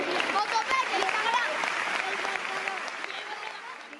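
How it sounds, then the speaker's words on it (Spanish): Applause at a sports awards gala in Jaraíz de la Vera, honoring local athletes: steady indoor clapping from a hall crowd that gradually fades, with voices mixed in underneath. "este aplauso es para todos vosotros"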